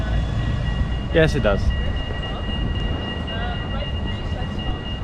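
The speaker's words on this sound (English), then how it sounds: "There's a tram coming, but I think it should stop." A tram moves along a city street in The Hague, giving a steady low rumble with a faint sustained electric whine, while a voice briefly speaks over it.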